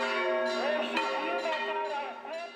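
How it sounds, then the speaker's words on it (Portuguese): A large 820-kilogram church bell tolls in the town of Inhaxica, its rich ringing tones layered and sustained with a strong strike near one second, sounding loud and full throughout. "as badaladas imponentes do sino de 820 quilos reforçam a fé de cada morador"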